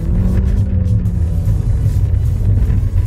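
A turbocharged Audi A1 engine rumbles loud and close in a deep continuous growl, held steady through the whole moment.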